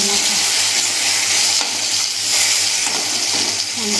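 Bitter gourd frying in a pan gives a dense, steady close-up sizzle with faint stirring scrapes, continuous for about four seconds with no talk.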